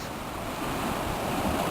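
Sea waves wash steadily onto the rugged Menorca coastline, a continuous broadband surf roar with some wind noise, close and fairly loud, with no voices.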